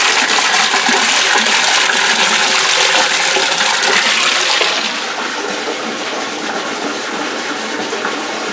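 Water pours steadily down a washing machine overflow drain, a loud, continuous rushing gush that softens and thins noticeably about halfway through as the flow eases.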